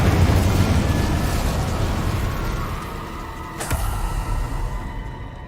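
Incendio fire spell cast in a video game: a loud, continuous roaring rush of flame that slowly eases off, with a sharp snap partway through and a renewed surge afterward.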